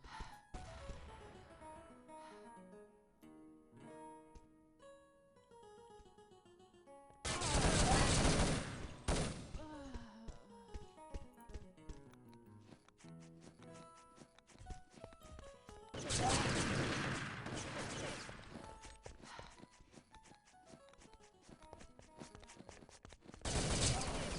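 Grenade blasts and gunfire from a competitive multiplayer shooter match between Nordic and Polish teams: several loud, dense bursts of explosive noise break through a steady bed of game sounds, the biggest blasts arriving in three separate waves.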